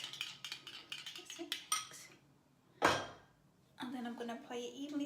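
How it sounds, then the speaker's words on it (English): A utensil stirs eggs and coconut oil in a bowl, clinking and scraping in quick bursts with a pause in the middle, and a voice is faintly present. "I mix it together with the eggs."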